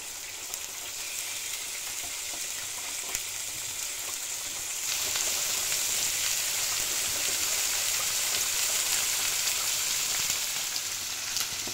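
Beef churrasco fries in oil on a hot griddle with a steady, dense sizzle that swells louder partway through, close and continuous, with no talk.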